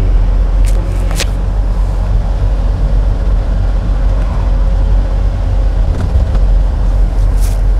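A car accelerating during a driving test, a steady loud engine and road rumble that holds for several seconds with no talking.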